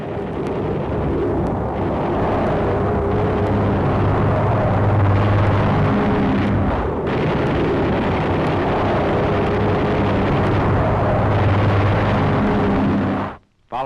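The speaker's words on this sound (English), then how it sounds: "P-51 strafe enemy positions on the hill prior to our advance." A P-51 fighter strafing enemy positions on a hill in 1945 combat, heard as a loud, steady roar of engine and gunfire noise that holds for about thirteen seconds before cutting off abruptly.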